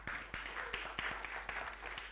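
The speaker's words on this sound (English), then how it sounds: "Give him a round of applause." A theatre audience at The Magic Circle magic show applauds with steady, dense clapping, a few sharper individual claps standing out near the front.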